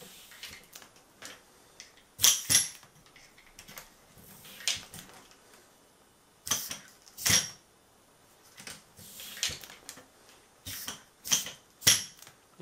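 The remote lever of a Rock Shox Reverb dropper seatpost on a bicycle, just serviced with a shortened and bled hose, is pressed repeatedly, producing sharp, close mechanical clicks and clunks spaced irregularly in quiet surroundings.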